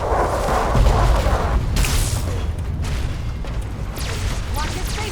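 Heavy artillery blasts and a deep boom in Fallout: Tale of Two Wastelands, a game with Chinese artillery, rumbling loud amid battle noise, with an alarm-like burst and shouted voices layered over the din.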